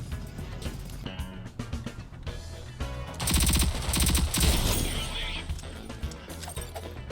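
Gunfire in the video game Rogue Company, with bursts of rapid automatic shots and clattering impacts, loud and close, among game sound effects and a short spoken line.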